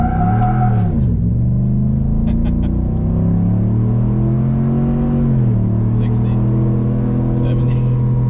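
A Chevrolet Silverado Trail Boss on 22x12 wheels and 33-inch tires accelerates at full throttle, its deep engine drone rising and dipping through a shift, heard steadily from inside the cab.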